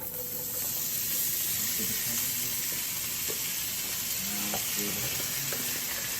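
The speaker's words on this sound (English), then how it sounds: "here I have 1 Roma tomato, 1 jalapeno, and half of a white onion, and I'm just gonna add this all to the pan" Roma tomato, jalapeno and half a white onion sizzle steadily in a hot pan, a loud, even frying hiss running throughout with faint clinks of stirring underneath.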